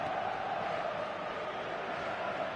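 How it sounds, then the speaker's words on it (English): Steady crowd roar in the eFootball 2026 football game, a loud continuous wash of stadium noise holding level throughout with no clear breaks. "the crowd level has gone up a notch or 10"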